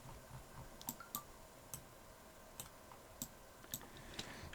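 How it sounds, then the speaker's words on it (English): A computer mouse gives a series of light, quiet clicks at an uneven pace, close by and alone, with a faint background hiss. "So that's right click again."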